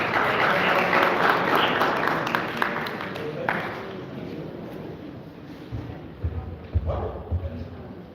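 Audience applause at a community meet-the-candidates event, steady clapping for the first few seconds that tapers off, with a few louder thumps near the end and talk in the background.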